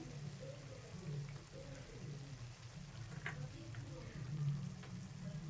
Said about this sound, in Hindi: 3 मिनट हो गए हैं मुझे कीमा भूनते हुए